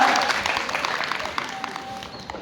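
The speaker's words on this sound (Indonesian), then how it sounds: "Kita beri tepuk tangan semua." A crowd of students applauds at a campus anti-corruption campaign event, a brisk burst of many hands clapping that gradually fades over a couple of seconds.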